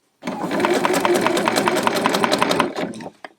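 A sewing machine runs a straight elastic smock stitch with high thread tension and a 3 mm stitch length, giving a fast, even mechanical chatter up close that stops with a final clunk.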